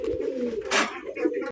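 Tiger golla pigeons cooing close by, a soft, low throaty coo rolling on through the short moment, briefly broken by a rustle, with someone speaking nearby.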